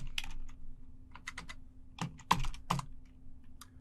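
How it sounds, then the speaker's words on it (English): Keys tapped on a computer keyboard while entering a shell command, a short irregular run of close, crisp clicks with a few louder strokes, no voices. "Now type who am I?"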